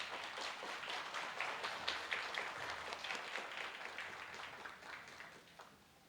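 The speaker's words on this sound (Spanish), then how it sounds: "Fuertes aplausos para nuestros primeros ponentes" Audience applause at a national meeting of specialized family judges held by the Lima Bar Association, honoring the first conference speakers; a dense, steady wash of clapping from a hall crowd that gradually fades out.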